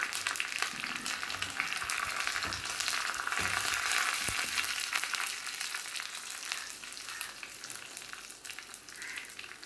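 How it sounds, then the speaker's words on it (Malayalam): Hot tempering with curry leaves poured into a lentil dal curry, producing a fierce, close crackle and spit that gradually settles into a softer sizzle, with no talking. "ആവശ്യത്തിന് കറിവേപ്പിലയും കൂടെ ചേർത്ത് പരിപ്പ് കറിയിലേക്ക് അങ്ങ് ഒഴിച്ചു കൊടുക്കാം"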